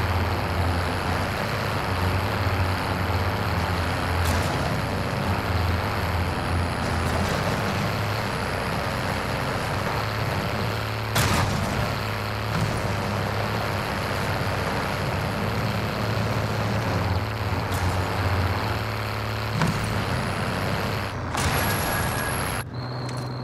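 A truck engine drones steadily and close while driving, with a constant low rumble broken by several sharp hissing air-brake releases.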